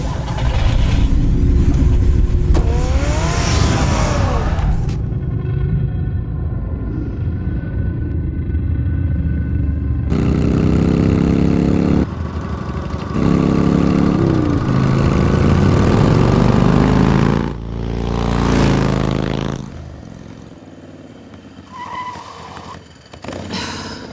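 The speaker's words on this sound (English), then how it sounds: "Get the car ready, Alfred." A car engine in the Telltale Batman video game revs and pulls away, a loud, steady drone with rising bursts, mixed with game music and effects, then fading toward the end.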